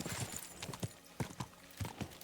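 Horse hooves clip-clop in a steady rhythm of paired strikes on hard ground in the video game Kingdom Come Deliverance 2, close and clear, with a faint whinny-like tone mixed in.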